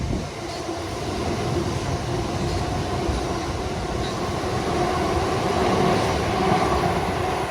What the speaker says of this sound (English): I think there's a train coming.